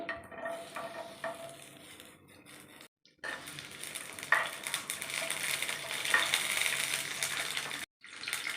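Green chillies fry in oil in a pan for mint chutney, giving a loud, steady crackling sizzle broken by two brief silences, with faint stirring scrapes and no talk.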